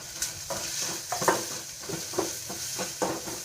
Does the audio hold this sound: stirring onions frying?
yes